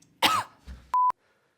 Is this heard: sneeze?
yes